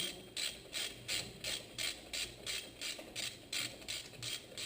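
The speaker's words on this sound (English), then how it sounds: "I use that to loosen the bolts" A long breaker bar works loose the bolts on a FR12 brake caliper, giving a steady series of about a dozen rhythmic metallic ratcheting clicks, close and moderately loud, with no talking.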